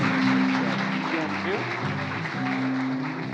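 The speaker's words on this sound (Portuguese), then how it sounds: "Uma salva de palmas para o nosso pastor." A church congregation applauds its pastor during a service, a dense, steady patter of clapping held at even loudness throughout, with sustained keyboard or organ tones and some voices mixed beneath.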